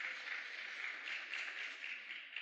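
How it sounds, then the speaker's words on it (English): Faint, steady applause from a crowd clapping together, distant and even, with no talking over it. "Clap your hands for me."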